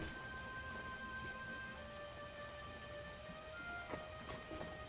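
Steady rain and a low rumble of thunder in the Lego Star Wars video game, soft and continuous with a slightly louder crackle near the end, no voices.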